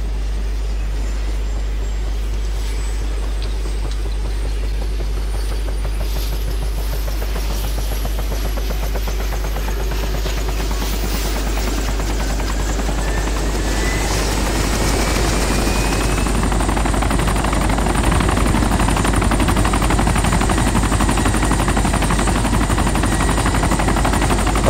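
A helicopter in the video game DayZ Epoch flies with a loud, continuous rotor drone and engine whine, steady and close for the whole stretch, growing slightly louder near the end.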